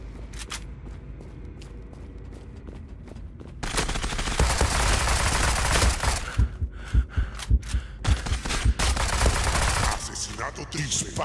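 Bursts of rapid gunfire, loud and close, with single shots and quick volleys crackling over a dense soundtrack in the video game Zula; no talking.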